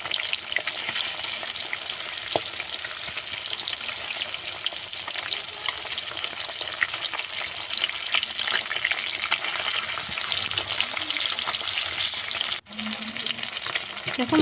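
Silver carp pieces sizzle steadily in mustard oil in a wok as they are turned over, a close, even frying hiss with a light utensil scrape near the end and no voices.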